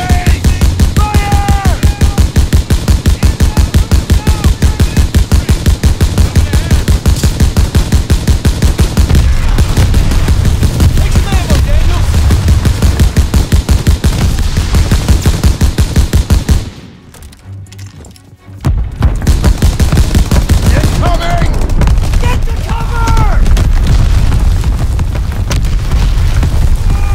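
Relentless rapid gunfire and booming blasts in a WWII battle from the video game Call of Duty, loud and continuous with a brief muffled drop near the middle before the firing resumes at full intensity.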